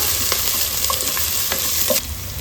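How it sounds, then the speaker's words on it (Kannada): Coriander leaves fry in ghee for a mutton curry, giving a loud, close, continuous sizzle with light stirring scrapes and no voices. "ಒಂದು ಚಮಚದಷ್ಟು ಕೊತ್ತಂಬರಿ ಸೊಪ್ಪನ್ನು ಹಾಕ್ಕೊಂಡು ಫ್ರೈ ಮಾಡ್ಕೊಳ್ಳೋಣ"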